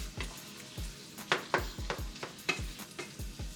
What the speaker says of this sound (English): And I give it a nice quick mix.